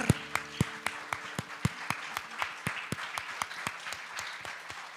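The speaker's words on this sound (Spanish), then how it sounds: "Dale un fuerte aplauso al Señor" Sharp rhythmic clapping in a church worship service, evenly spaced claps keeping a steady beat over a continuous wash of crowd noise, with a brief low tone near the start.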